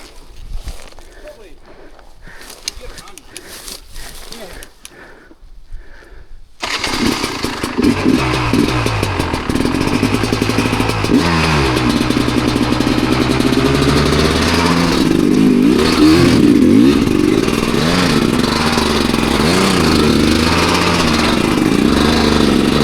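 Trials motorcycle engine revving hard while climbing a steep rock gully, starting after several seconds of quiet and then holding a loud, wavering drone with rises and falls; people talk over it.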